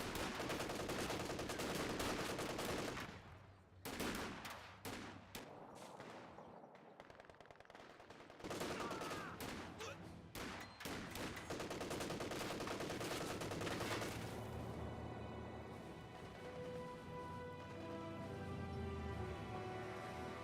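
Gunfire in the Company of Heroes 2 war strategy game: dense rifle and machine-gun bursts crackle in rapid volleys with brief lulls, giving way to steadier combat rumble, loud throughout.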